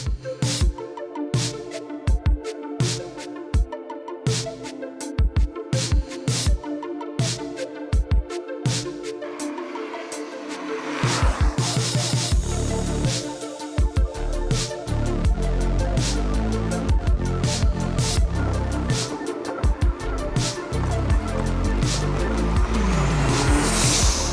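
Toyota MR2 drag car, a quarter-mile machine running 10-second passes, its engine heard loud and close, first in choppy revving bursts with gaps, then settling into a sustained heavy roar that holds to the end.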